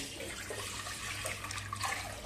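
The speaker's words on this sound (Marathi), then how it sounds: "त्याच टोपाने एक टोप भरून पाणी घालूया" Water pours steadily from a pot into a cooking pot set on a gas stove, measured for rice-flour papad dough, a continuous splashing rush at close range for a couple of seconds with no talk over it.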